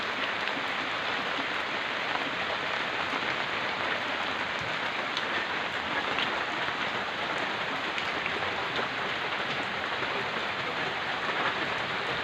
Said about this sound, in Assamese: ইমানে ডাঙৰ বৰষুণ